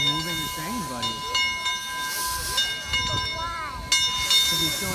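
A steam locomotive hisses steadily with bursts of venting steam and a faint whistle-like tone, while voices talk over it nearby.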